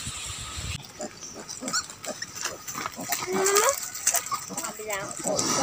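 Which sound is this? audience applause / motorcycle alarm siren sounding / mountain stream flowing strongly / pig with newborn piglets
pig with newborn piglets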